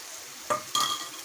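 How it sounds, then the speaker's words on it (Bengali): Fish belly pieces being stirred and fried with onion and tomato in a pan, a low sizzle broken by two sharp scrapes and clinks of a spoon against the metal. "দিয়ে এটাকে নেড়ে ছেড়ে আবার একটু ভালো করে কষিয়ে নিব"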